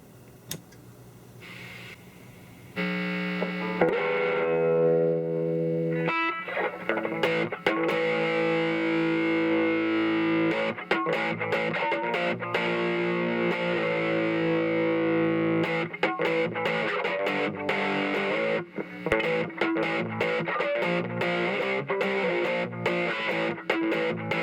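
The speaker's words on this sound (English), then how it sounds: "we'll go ahead and do some high gain, check it out, and see how it plays" Electric guitar played at high gain through a Peavey Studio Pro 112 combo amp, a loud, continuous distorted tone of sustained chords and riffs that runs for over twenty seconds after a brief quieter start, with no talk.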